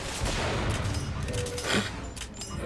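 Gunfire from the video game Bioshock Infinite, a dense burst of shots and impacts filling the clip loudly with game noise around it.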